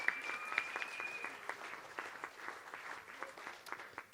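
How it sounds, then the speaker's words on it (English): Audience applause at the National Live Music Awards gala, a large crowd clapping steadily in a hall with distinct individual claps popping out of the wash, a faint tonal whine briefly audible underneath near the start. "Let's give her a round of applause"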